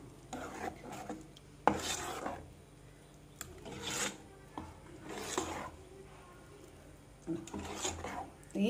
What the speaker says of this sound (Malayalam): എന്നിട്ടിത് നല്ലതുപോലെ ജോയിൻ ചെയ്ത് ഇളക്കി നല്ലതുപോലെ മിക്സാക്കുക.